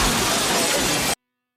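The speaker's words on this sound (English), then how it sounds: "Glass shatters, fists fly" Glass shatters loudly and close during a bar brawl in the 1991 game Stone Cold, a dense crashing burst lasting about a second before cutting abruptly to silence.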